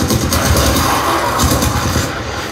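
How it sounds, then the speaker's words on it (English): Soundbar with a subwoofer playing Xbox game audio very loudly, a dense, continuous wash of sound with heavy, rumbling low bass throughout. "I've never heard a soundbar sound like this."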